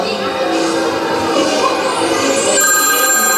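A telephone rings with a steady electronic tone that becomes clearer toward the end, over a busy background of voices and room noise.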